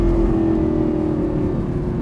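Lamborghini Gallardo engine revving, a steady loud hum with a sustained tone that holds for about a second and a half before easing, close and continuous with no talking.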